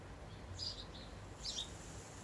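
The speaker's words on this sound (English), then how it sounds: "Just listen to the birds." Two brief bird chirps ring out faintly over a steady low outdoor hum, one early and one later.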